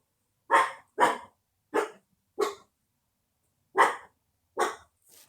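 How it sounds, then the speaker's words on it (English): A dog barks sharply several times in short bursts, with a pause midway, fairly close and loud. "what are you barking at, buddy?"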